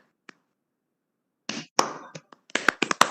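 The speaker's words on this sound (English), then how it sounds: "Shall we have a clap?" A few scattered hand claps from a small audience at an inauguration, sharp and uneven, starting after a near-silent pause and growing slightly busier toward the end.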